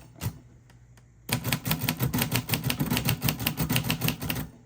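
A 1948 Royal Quiet De Luxe manual typewriter being worked to set tab stops: one isolated clack, a pause, then a fast, even run of sharp mechanical key strikes and clatter close by.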